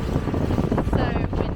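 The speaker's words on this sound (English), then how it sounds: "So windy, and hopefully you can hear me." Strong wind buffets the microphone on a boat cruising at sea off Mauritius, a steady loud roar with gusty swells throughout, a voice talking faintly beneath it.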